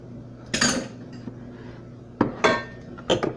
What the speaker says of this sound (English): to go ahead and get my mixer out.